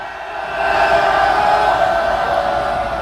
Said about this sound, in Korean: 우리 같이 함께하고 있는 시민분들께 힘을 줄 수 있도록 함성 한번 질러보도록 하겠습니다